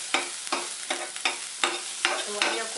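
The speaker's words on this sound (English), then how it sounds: "and then I need to stir them well" Poha with onions being stirred in a pan with very little oil over low flame: regular scraping strokes of a spoon about twice a second over a soft, continuous sizzle, close and alone.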